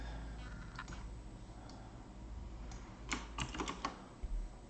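Keys clicking on a computer keyboard, a few scattered taps early on and then a quicker burst of keystrokes near the end, close by over a steady low hum.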